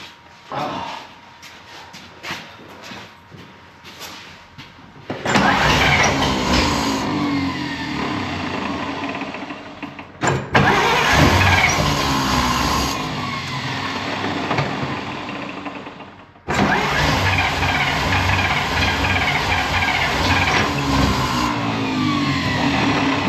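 A 1956 Dodge Power Wagon with a gas engine is cranked on ether, with repeated loud bursts of cranking and rough running separated by short pauses, close up and with no voices.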